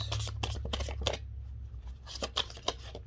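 Tarot cards being shuffled close up in quick riffling bursts, pausing briefly midway before resuming.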